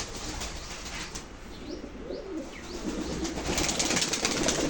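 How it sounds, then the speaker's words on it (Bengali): Pigeons released from their coop, with soft cooing, chirps and brief wing flaps over a steady outdoor background, growing slightly louder toward the end. "আমি সবগুলো কবুতরকে আগে বের করি"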